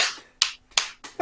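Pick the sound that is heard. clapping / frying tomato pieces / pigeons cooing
clapping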